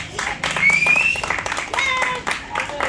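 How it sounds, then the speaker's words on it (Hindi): A crowd claps for the winning brother and sister at a competition, with steady applause mixed with other sounds and a high whistle-like tone over it. "सब लोग उनके लिए ताली बजाते हैं।"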